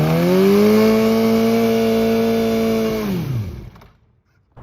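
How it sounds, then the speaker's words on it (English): A motorcycle doing a burnout, its engine held close and loud at high, steady revs for about three seconds before the revs fall away and fade into silence. "about to try to do rolling burnouts today"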